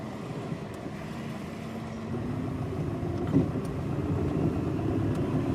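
A classic Ferrari 308 GTB Vetroresina rolls along slowly, its engine giving a steady, moderate drone with a low rumble that holds even throughout, close and alone with no voices.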